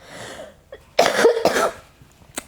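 A single harsh cough with a double burst, close and clear, from a woman pausing mid-talk during a tarot reading, with quiet room tone around it.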